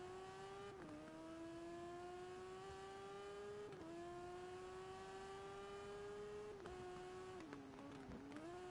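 A car accelerating in a video game: a steady engine whine climbs in pitch, drops at each gear change about every three seconds, then climbs again, alone and fairly faint.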